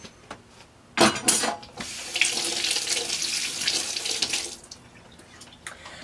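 Running tap water splashes into a sink as eggs preserved in food-grade lime water are rinsed off, a close, steady gush that swells after a sudden start and eases toward the end.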